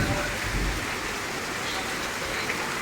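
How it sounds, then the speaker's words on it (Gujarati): Heavy rain pours steadily in a village, a dense, constant roar of drops on surfaces, while a voice talks over it. "વીજળી કડાકા ભડાકા ગાજતો તો ફૂલે ફૂલ વરસાદ"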